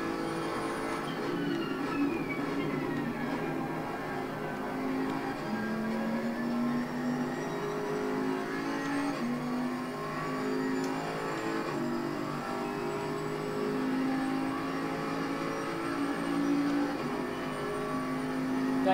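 Race cars circling Monza in Assetto Corsa Competizione on PS5, engines droning and revving continuously with rising and falling pitch as cars run close together, loud throughout with no talking.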